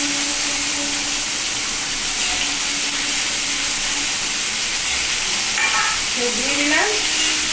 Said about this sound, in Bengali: এইবার তেলের মধ্যে এটা আস্তে আস্তে ছেড়ে দিচ্ছি